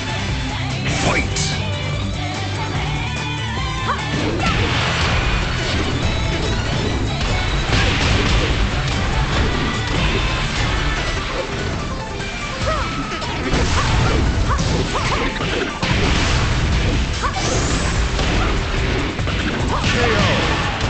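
Fighting-game hits and impacts from Tekken 6, with loud, dense, continuous smashing and thwacking blows layered over game music and effects for the whole stretch.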